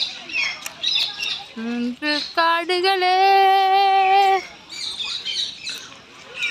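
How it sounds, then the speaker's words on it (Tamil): An Alexandrine parakeet at a zoo gives loud, close, harsh squawks with a rising series of shrill calls, mixed with nearby people talking before and after. "அலெக்சாண்டர் பச்சை கிளி"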